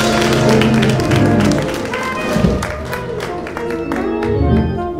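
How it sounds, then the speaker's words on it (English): A church congregation claps in praise during a worship service, a loud, sustained wash of many hands clapping together, with music and voices blended underneath. "won't you give him a hand clap of praise?"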